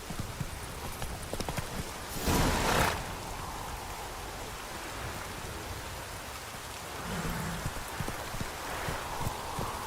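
Roach the horse gallops with steady clip-clop hoofbeats in The Witcher 3, the rhythm running under a wet, rain-like wash with a brief louder burst partway through.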